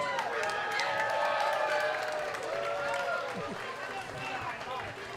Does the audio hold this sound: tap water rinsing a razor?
no